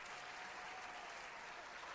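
Dense, steady applause from a large crowd for Snoop Dogg at a Monday Night Raw wrestling show fills the whole stretch, even and continuous with no gaps.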